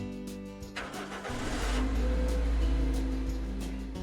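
A car engine cranks briefly with a rough starter whir, then catches and settles into a steady, loud, low rumble that runs to the end, with no voices.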